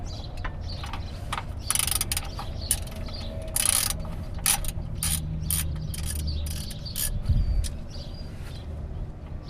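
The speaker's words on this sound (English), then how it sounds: "you're just going to undo the oil plug" Socket ratchet with a 17mm socket undoing the oil drain plug on a 2003 BMW 330i, rapid clicking pawl bursts in several short runs, close up, over a low steady background hum.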